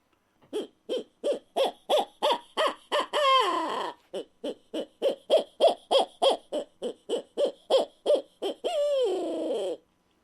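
Owl locator call blown as a laughing owl imitation: a fast series of loud, near hooting notes climbing into a cackling, descending trill, then a second run of rhythmic hoots ending in another wavering laugh.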